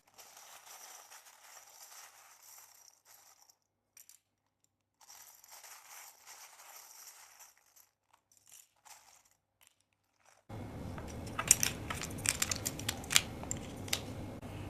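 Tarot cards being shuffled by hand in a quiet room, soft intermittent riffling and sliding bursts with short pauses, then louder, denser crisp flicks and taps near the end.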